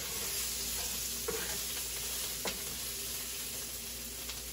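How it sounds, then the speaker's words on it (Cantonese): Shallots and lemongrass stir-frying in a hot wok produce a constant, even sizzle with a few faint scrapes and clicks, heard alone at moderate level with a faint steady high whine in the background. "我哋咧就將呢啲乾葱同埋嗰啲香茅擠落去爆一爆佢"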